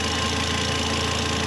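A 2006 Volvo XC70 engine idles close and loud with a steady, even rumble and a faint ticking rhythm, no voices over it.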